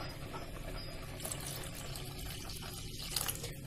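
Prepared water poured into a pot of rice simmering in milk for Egyptian rice pudding, a faint, steady liquid pour heard close up with no talking.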